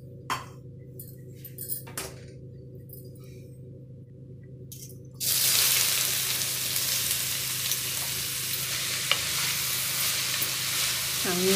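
Bitter gourd and raw banana pieces hitting a hot pan, starting with a few clinks, then breaking into a loud continuous sizzle that carries on steadily to the end.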